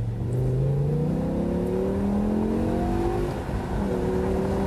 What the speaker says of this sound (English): So let's drop down the gears.